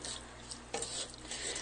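Cream being stirred into a pan of spicy sausage pasta, a brief close wet scraping and gentle sizzling with a soft stir stroke midway, no talk.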